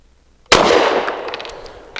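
A single sharp gunshot from a BUL Armory Ultralight PRO pistol firing SIG 365 115 grain ammunition, loud and close, with a sudden crack followed by a decaying outdoor echo and faint clinks after.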